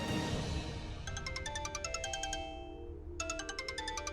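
A mobile phone ringtone plays a bright, repeating melodic chime in two bursts separated by a short gap, clear and moderately close in a quiet room.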